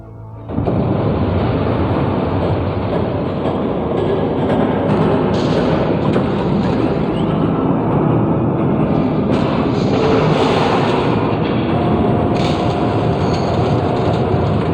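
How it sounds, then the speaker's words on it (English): A train in the Batman Telltale Series game rushes past loud and close, a continuous roar of rumbling wheels and clatter sustained for the whole stretch without letting up. "There's a train coming."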